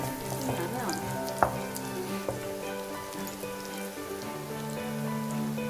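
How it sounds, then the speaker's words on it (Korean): Steady oil sizzle and crackle of ginger and scallion being stir-fried in a pan, with occasional utensil clicks and scrapes, close and continuous. "여기 고인 기름에 생강과 대파채를 넣고 한껏 향이 오르도록 볶아줍니다."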